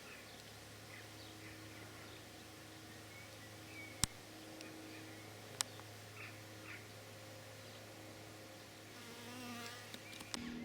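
Faint, steady insect buzzing hums through a quiet outdoor scene, with a few sharp clicks and small knocks scattered across it.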